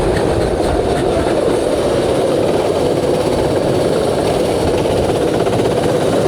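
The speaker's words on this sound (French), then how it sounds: "T'as un joli moteur." A go-kart engine runs at an outdoor kart track, a dense, continuous mechanical drone that holds steady and loud throughout, with no voices.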